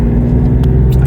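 A BMW M635 CSi pulls hard on the road in gear, its engine a loud, close, steady rumbling drone over a brief stretch with no talk.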